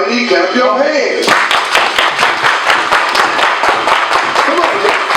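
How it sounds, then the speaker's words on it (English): Children at a primary school family fun night break into loud, rapid clapping after a leader's chant, the group applause carrying on steadily while voices and chatter mix in. "Everybody clap your hands."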